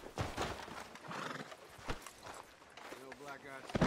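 A horse whinnies near the end amid clopping hooves and footsteps in Red Dead Redemption 2, with voices speaking over the in-game scene.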